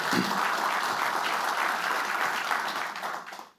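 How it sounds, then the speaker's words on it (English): Steady applause from a room of veterans at a business summit, a dense, even wash of many hands clapping that holds strong for about three seconds and then tapers off quickly at the end. "Give yourselves a round of applause."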